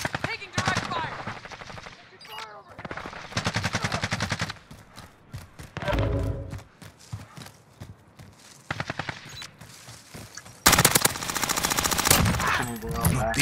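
Call of Duty: Modern Warfare gunfire comes in sharp automatic bursts and rattling machine-gun strings, loud and close, pausing between volleys and ending in a sustained barrage, with in-game voices speaking between the bursts.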